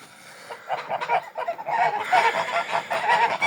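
Grey geese ganders honking close by, harsh repeated calls overlapping in a loud, busy flock chorus that builds through the second half.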